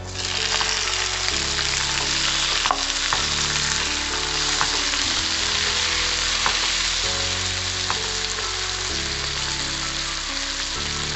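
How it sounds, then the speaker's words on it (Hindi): Chopped tomato sautéing in hot oil with garlic and green chilli, a steady close sizzle and crackle with occasional stirring thuds, running continuously with no voices. "अब इसमें हम ऐड करेंगे चॉप किया हुआ टमाटर"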